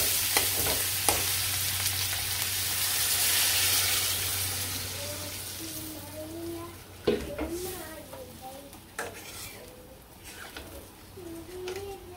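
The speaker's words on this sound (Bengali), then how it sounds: "এখন ঝোল দিয়ে দিই।" Broth poured into a hot pan of frying curry in a village home kitchen hisses and sizzles steadily, with occasional stirring clinks and a faint voice nearby.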